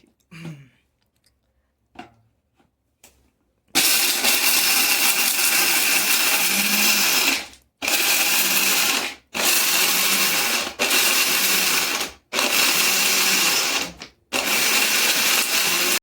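A few soft knocks, then a mixer grinder whirs loudly in several bursts, stopping and restarting with short pauses between runs.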